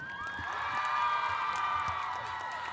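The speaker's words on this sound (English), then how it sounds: "Please give another round of applause for Ms." Crowd in the stands at a high school football game applauding and cheering for an honoree on the field, a broad wash of clapping and whoops with a public-address voice and tonal music carrying over it.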